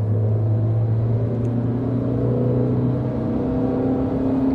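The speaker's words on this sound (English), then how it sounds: "Right, full force of acceleration." A French car with funky doors accelerates at full force, its engine droning loud and steady from inside the cabin, pitch climbing slowly with road rumble beneath and no voices.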